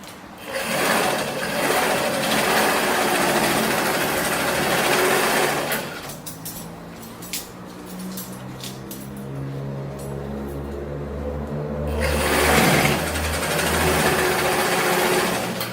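A domestic sewing machine stitching a skirt runs in loud, fast bursts, then stops briefly in the middle while the presser foot is raised and the fabric turned, then starts again. No one speaks.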